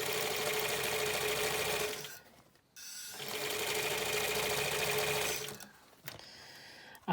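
A sewing machine stitches bias binding folded in half for a face covering, running in two long, steady, close bursts of quick whirring separated by a brief stop, then stopping again near the end.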